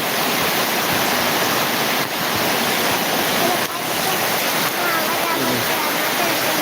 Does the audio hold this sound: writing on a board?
no